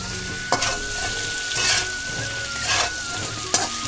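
Chunks of taro (mankochu) frying in oil in a pan, being stirred with a spoon: a steady close sizzle with a few louder scraping stirs, no talking.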